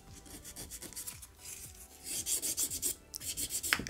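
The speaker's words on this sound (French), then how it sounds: "je prends mon buffer, le passe partout" Nail buffer rubbed over an acrylic resin nail, a close, soft rasping scrub in quick back-and-forth strokes, with a steadier, faster run of strokes toward the end.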